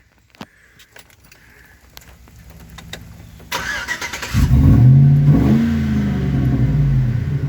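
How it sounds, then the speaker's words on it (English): A truck fitted with a cherry bomb exhaust fires up after a few keys jangle, then revs loud and close with a deep, rumbling burble that holds steady. "give the protesters a little bit of cherry bomb exhaust"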